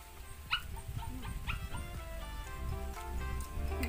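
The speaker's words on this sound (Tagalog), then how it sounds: "Ang asong makulit." A dog yips and barks in a few short bursts over a noisy outdoor background, moderately close, with some whimpering sounds between.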